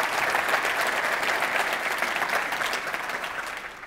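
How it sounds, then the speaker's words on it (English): Sustained audience applause at a technology conference keynote in London, a dense steady wash of many hands clapping throughout, loud and continuous before tapering slightly at the end. "Let's just give a round of applause again to Mohen for an amazing,"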